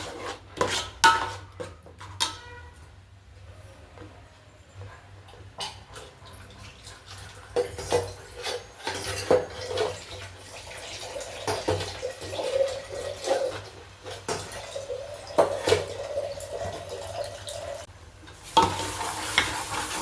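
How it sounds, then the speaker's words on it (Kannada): Masala stirred and fried in a pan for fish sambar gives a steady low sizzle with scraping spoon strokes and occasional clinks, continuing at moderate level without talk. "ಒಂದು ನಿಮಿಷ ಫ್ರೈ ಮಾಡ್ಕೊಳ್ಳೋಣ ಈ ಮಸಾಲೆನೂ ಕೂಡ"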